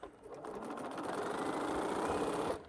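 A sewing machine stitching small quilt pieces runs in one steady, close burst of rapid mechanical whirring for a couple of seconds, then stops.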